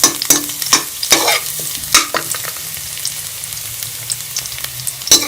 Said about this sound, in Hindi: अब 1 मिनट के लिए इसे बस फ्राई करना है